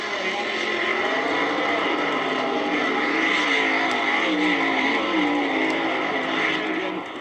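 A Chevy Vega and a Chevy Camaro roar down the strip in a drag race at the 1971 Summer Nationals, a loud, sustained engine howl holding steady throughout.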